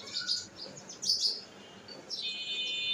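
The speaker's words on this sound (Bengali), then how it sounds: "এই যে পাখির ডাক শুনি কিচিরমিচির শুনি" Small birds chirping and twittering in short bursts, bright and fairly close, with quieter gaps between the calls and a steadier run of chirps toward the end.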